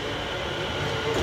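A commuter train that is out of service rumbles steadily and loudly throughout a short moment on the line near Edmonton Green, with no voices.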